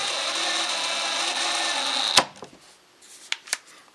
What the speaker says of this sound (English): drill all 3 of those, and then just drive our screws in.